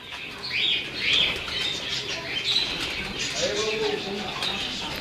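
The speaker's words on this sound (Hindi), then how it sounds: "ये देखें ये नीला कबूतर है जी" A blue pigeon beats its wings in short flapping bursts among other birds, with soft coos and chirps nearby and someone talking over the scene.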